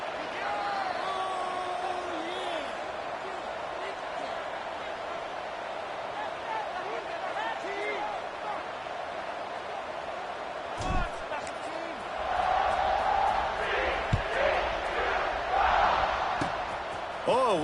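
Simulated stadium crowd from the CFB26 college football game, steady roar throughout a Kansas State–TCU matchup at kickoff, swelling louder near the end with sharper cheers and bursts over the continuous hubbub.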